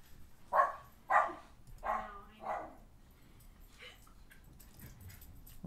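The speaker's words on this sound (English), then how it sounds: "I'm sorry about the dogs." Dogs bark four times in a quick run, the barks loud and fairly close, then fall to faint whimpers and a quieter stretch with low room noise.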